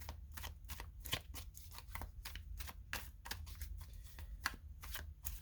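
Riffling and shuffling of an Osho Zen tarot card deck, a steady run of quick papery card flutters and soft slaps, close up and fairly quiet, with no talking.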